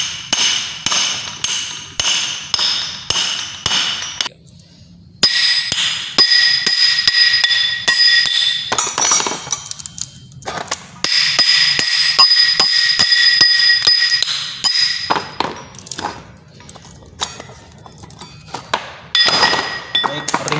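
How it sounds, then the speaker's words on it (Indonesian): Repeated hammer blows knock the ring gear off a Toyota Kijang differential carrier, sharp metallic clanks in bursts of rapid strikes with brief pauses, loud and close, some ringing metal between hits. "untuk melakukan pembongkaran pada ring gear ini kita perlu menggunakan palu ya"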